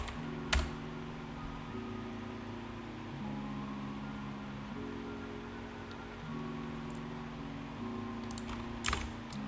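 A Thai word being typed on a computer keyboard: soft, scattered key clicks over a steady low hum of room or machine noise, quiet and close with no speech.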